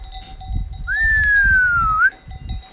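Goats and lambs bleat outdoors in a rural grazing area, with one drawn-out, clear call in the middle over a low rumbling background.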